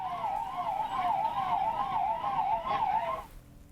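A fire brigade engine siren wails in a fast, regular up-and-down sweep, loud and near, arriving at a furniture market fire before cutting off abruptly near the end.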